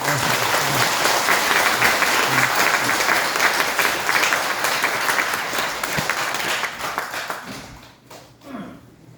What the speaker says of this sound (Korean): 박수 한번 크게 한번 합시다